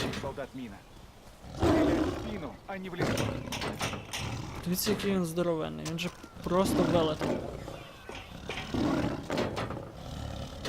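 Tiger roaring in the Far Cry 4 video game, several deep drawn-out roars rising and falling at close range, mixed with someone talking excitedly over them throughout.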